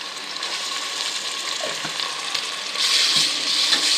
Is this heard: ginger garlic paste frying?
yes